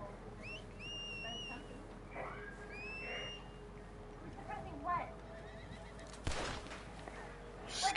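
A horse in Red Dead Online whinnies with rising, whistle-like calls over outdoor game ambience, followed by a sharp rustle and further faint horse sounds, fairly close.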